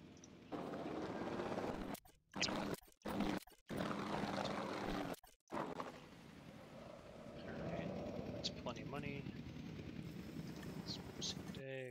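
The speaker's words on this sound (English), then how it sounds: "we also need maybe do another helicopter run" A helicopter in Jurassic World Evolution 2 whirs with a steady rotor drone that cuts in and out in short bursts, then settles into a continuous hum under game sounds.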